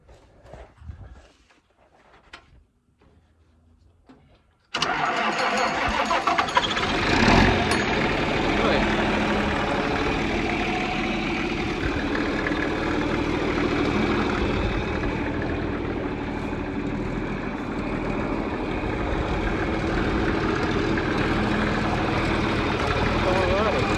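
An old John Deere 4320 tractor, started via a jumper wire off the alternator to the solenoid, catches after a quiet lead-in and settles into a steady, loud, continuous idle that runs on for the rest of the clip.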